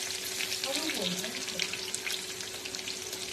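Green chillies and mustard seeds crackle and sizzle in hot oil in a kitchen pan, a continuous close hissing fry with small pops, while a voice speaks over it.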